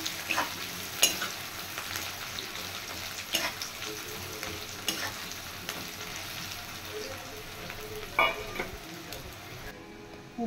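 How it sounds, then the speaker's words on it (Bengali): Chopped onions fry in a pan with a constant crackling sizzle. Sharp stirring clicks and scrapes break in now and then, close by and with no talk. "পেঁয়াজটা লাল করে ফ্রাই করে নেব প্রথমে।"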